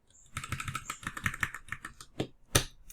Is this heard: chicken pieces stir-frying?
no